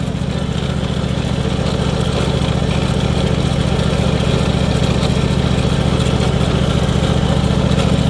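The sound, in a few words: John Deere GX255 mower engine running, possible bad pulley noise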